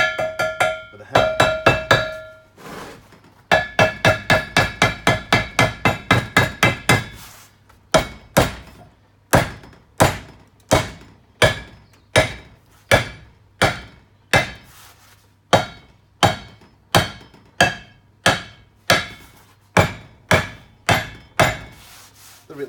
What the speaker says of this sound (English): I'm using a nice weighty hammer, and being lead, it's just a matter of tapping on it